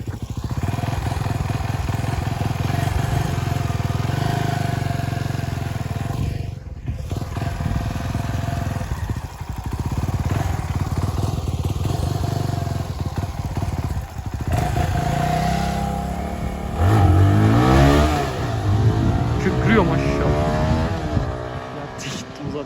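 CFMoto 250NK motorcycle on a test ride, its engine droning and revving with rising and falling pitch under wind rush, with people talking and laughing over it.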